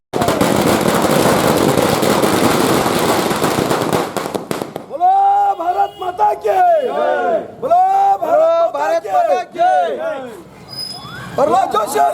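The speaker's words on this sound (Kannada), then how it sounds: "ಬಿಜೆಪಿ ಕಾರ್ಯಕರ್ತರು ವಿಜಯೋತ್ಸವವನ್ನು ಪಟಾಕಿ ಸಿಡಿಸಿ ಸಂಭ್ರಮಿಸಿದರು" Firecrackers bursting at a BJP victory celebration in the street, a dense loud crackling barrage for several seconds, then a crowd cheering and shouting in loose rhythmic chants.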